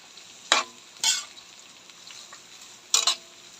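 Vegetables fry in a pan while a ladle stirs them, giving three short bursts of crackling sizzle and scraping spaced over a few seconds, with quiet pauses in between.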